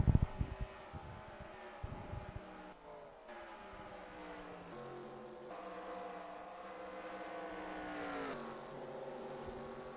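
Race car engines whine at high, shifting pitch at Dover in the NASCAR Racing 2003 video game, a busy layered drone of several cars passing, with a few sharp knocks at the start and no talk.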